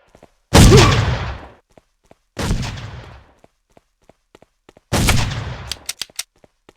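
Sniper rifle fire in the Made Man video game: three loud, separate gunshots, each ringing out and decaying over about a second, followed by a few scattered faint clicks.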